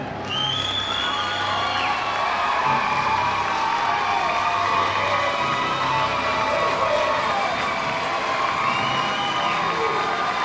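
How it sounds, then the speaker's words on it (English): Students and spectators at a county academic decathlon super quiz applaud and cheer for a school, a steady roar of clapping with whoops and shouts filling the hall, loud and continuous with no pause. "Let's give a round of applause for New San Juan."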